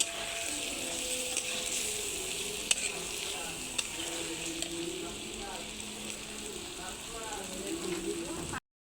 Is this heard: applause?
no